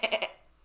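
A human voice imitates a goat with a short, close, wavering bleat in three quick pulses, then trails off into a faint tail.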